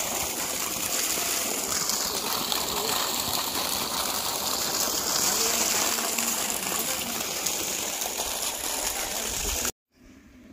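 Water gushes in a loud, steady rush from a newly fitted borewell pipe on a farm, pouring continuously for about ten seconds before cutting off abruptly.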